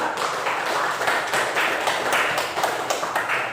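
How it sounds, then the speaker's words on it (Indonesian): A classroom group claps for a student group that has just presented, a dense, steady burst of many hands applauding together at close range, lasting several seconds without speech. "Tepuk tangan buat kelompok 2."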